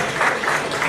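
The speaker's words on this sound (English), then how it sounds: "Please, a hand of applause for him, please." Steady applause from an audience, a dense wash of clapping that holds at an even level for the whole second with no voices on top.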